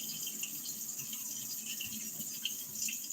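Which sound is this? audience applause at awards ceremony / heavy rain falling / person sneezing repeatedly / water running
water running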